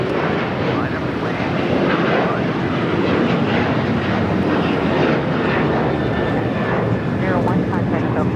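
A United airliner taking off from runway 25 right at LAX sends out a loud, sustained engine roar with a gusty rumble, while radio voices talk over it.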